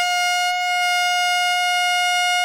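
A saxophone holds a sustained, bright high note that rings with rich, buzzy overtones, steady and loud for a couple of seconds, with no other sounds.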